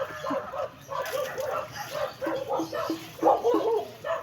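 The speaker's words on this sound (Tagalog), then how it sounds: "Tinaulan sila ng aso." A dog barks repeatedly in short, rapid yaps and yips, fairly close, with a few whimpering notes mixed in and faint background noise.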